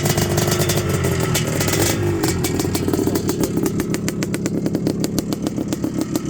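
A motorcycle engine runs close and loud, settling from a rough roar into a fast, even, popping idle with a distinctive rhythmic thump.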